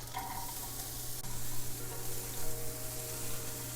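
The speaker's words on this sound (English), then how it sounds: "In here with the vegan beef, I'm gonna start to break it up with my spatula a little bit, but I'm also gonna add in 1 tablespoon of vegan butter." Vegan beef frying in a pan with vegan butter while a spatula breaks it up, a steady bright sizzle with scraping and stirring noises throughout, moderately close.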